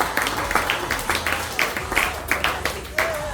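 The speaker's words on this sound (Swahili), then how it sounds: "Hebu tumchapie Yesu makofi." A church congregation claps for Jesus in a steady rhythmic beat, the claps rising and falling in waves while voices carry faintly underneath.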